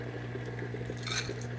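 A Breville Barista Pro flushes water through its filter basket, a steady pump hum with gurgling, hissing water flow, close and continuous.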